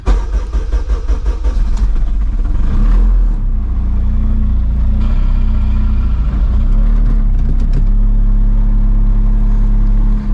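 A car with newly installed rear trailing arms rolls off a driveway, its engine rumbling loud and steady close by, with a brief revving surge early on before settling into a continuous drone.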